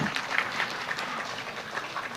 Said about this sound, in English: Let's have another round of applause for Amabel and Daryl.